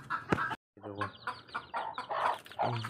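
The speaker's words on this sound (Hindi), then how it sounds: "मुर्गी, इस मुर्गी के बच्चे भी हैं वो" A hen with her small chicks clucks in a short series of close, repeated calls, while a person talks nearby.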